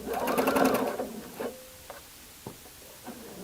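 A sewing machine runs briefly while stitching a collar, a fast mechanical whir for about a second, followed by quieter clicks and small handling taps.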